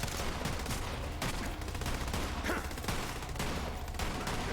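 Rapid gunfire in the shooter Borderlands 3, dense bursts of automatic shots cracking in quick succession over a busy game soundscape, continuous and loud throughout.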